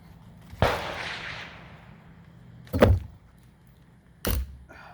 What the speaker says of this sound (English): Excuse the shots in the background. Most of y'all know I do live at a gun range